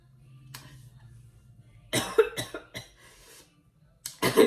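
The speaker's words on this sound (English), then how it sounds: "I just started coughing" A quiet breathy start, then a close series of harsh coughs, a pause, and another loud burst of coughing.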